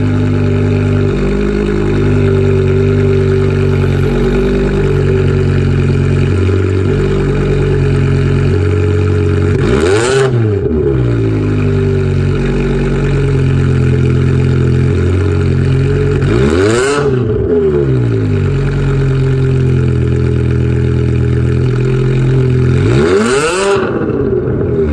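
A loud car engine idles with a deep, steady rumble, then revs sharply three times at spaced intervals, each burst rising and falling back to idle.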